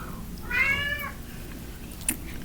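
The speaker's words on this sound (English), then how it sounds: "I let my cat in here because that's what he wanted." A house cat gives a single clear, close meow in a quiet kitchen, followed by a brief small tap.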